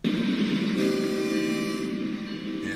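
A train rumbles along the rails in the Rails Unlimited game. The loud, continuous roar carries a sustained horn-like tone over most of its length, with no talking.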